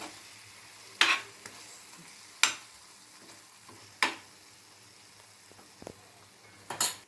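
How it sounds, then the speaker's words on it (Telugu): Stuffed long brinjal and onion chilli curry frying in a pan, a quiet continuous sizzle broken by four sharp scrapes of a spoon stirring at intervals of roughly one and a half seconds. "ఇలా మధ్య మధ్యలో కదుపుకుంటూ ఈ ఉల్లి కారం బాగా వేగిన దాకా వేయించుకోవాలండి"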